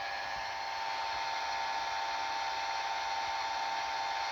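An Edison Fireside phonograph mechanism running after its bearings have been oiled produces a steady, continuous mechanical whir with an even hum throughout and no voices.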